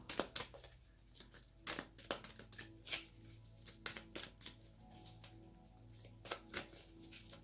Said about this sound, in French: Je vais quand même tirer une carte avec le jeu Aimer sa vie.